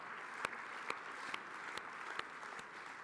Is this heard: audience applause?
yes